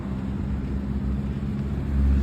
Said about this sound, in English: 5 o'clock traffic.